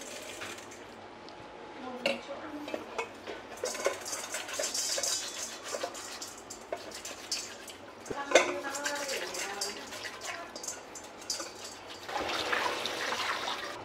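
Pork belly is rinsed under water in a kitchen: intermittent splashing and running water, clinks of dishes and handling noises, and a louder burst of water near the end.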